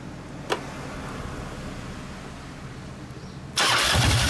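A faint background hum and a brief click give way to a 2016 Kawasaki ZRX1200 DAEG motorcycle with a Vance & Hines exhaust firing up suddenly, settling into a loud, deep rumble.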